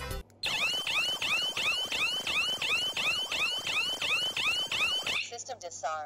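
A DIGOO smart home alarm with external siren sweeps rapidly up and down in a fast repeating pattern, piercing, harsh and close, then stops, leaving a brief electronic chirp.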